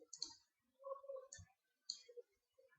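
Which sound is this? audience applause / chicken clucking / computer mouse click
computer mouse click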